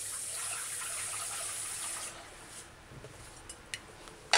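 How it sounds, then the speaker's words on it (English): Tap water gushes steadily for a couple of seconds while ginger is washed, then stops, followed by a few drips, small clatters and a sharp knock at the end. "it's best if you do this part on the fresh running water"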